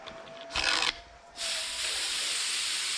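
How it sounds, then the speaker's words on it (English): Air escaping from a pressure washer line while the trigger is held, a close hiss that bursts briefly, drops away, then returns as a steady rushing sound to the end. "Hear all that air coming out? That's what we're looking for."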